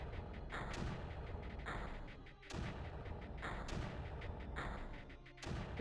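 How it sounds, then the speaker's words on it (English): Mortars fire in the video game Creeper World. Deep, booming thuds come in a steady rhythm of about four heavy volleys, each with a rolling rumble that fades before the next. "These mortars are helping out, aren't they?"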